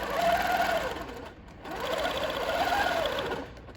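Sewing machine stitching steadily around a quilting ruler in two continuous runs, close and fairly loud, with a short pause between them and no talking.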